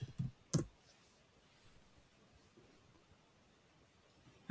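Several sharp keyboard clicks near the start and one at the end, with quiet room hiss in between, as someone types on a computer keyboard.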